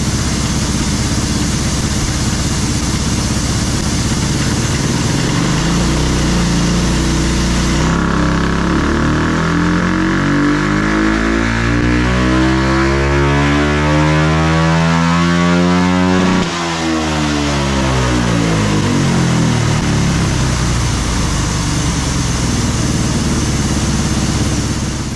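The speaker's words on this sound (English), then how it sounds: "I think it feels pretty good, but we'll spin her up and see what it makes." A 2024 Kawasaki KX450 motocross bike engine revs up on a dyno, a loud, continuous sweep climbing steadily in pitch for about sixteen seconds before the throttle closes and the engine falls away, with no talk over it.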